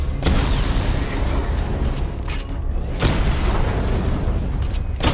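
Repeated booming explosions of destroyed targets in the Batman: Arkham Knight video game, with heavy blasts near 0.3 and 3 seconds over a continuous loud rumbling background.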